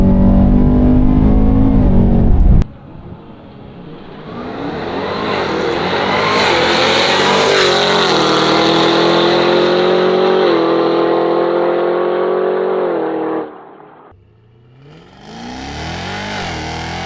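A supercharged Cadillac CT5-V Blackwing, upgraded to 800 horsepower, roars loudly up through the gears, its engine note climbing and dropping at each shift before easing off and building again near the end.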